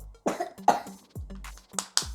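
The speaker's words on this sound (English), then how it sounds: "sorry for my daughter's coughing" A close series of short, rough coughs from a child, about five bursts spaced irregularly, with a little throat clearing between them.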